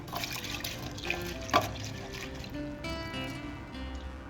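Water splashes and sloshes in a container with a brief clatter partway through, as lentils are rinsed by hand close up.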